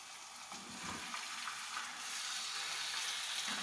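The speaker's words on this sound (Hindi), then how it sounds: "इनको हमने तेज़ आंच पर, ये देखें, तेज़ आंच पर फ्राई करना है" Chicken pieces for karahi sizzle steadily in a hot pan over high heat with ginger and garlic, a continuous bright crackling hiss that grows slightly louder.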